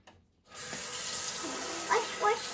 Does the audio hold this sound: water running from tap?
yes